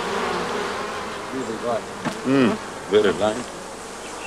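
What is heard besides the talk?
African bees buzzing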